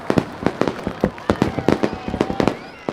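Fireworks bursting in rapid succession, a dense run of sharp cracks and pops about every quarter second, loud and close with crackling trails between blasts, at a 4th of July celebration.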